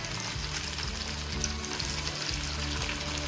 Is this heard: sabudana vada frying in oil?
yes